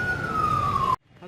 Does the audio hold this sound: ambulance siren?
yes